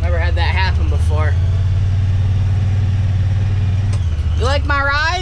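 A Honda Pioneer 1000 six-seater utility vehicle idles close by with a steady low engine drone, while a person talks over it at the start and end.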